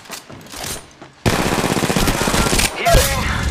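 Rapid automatic gunfire in the battle royale shooter Apex Legends Mobile, with a loud sustained burst of fast shots starting abruptly after a moment of quieter game sound and continuing to the end.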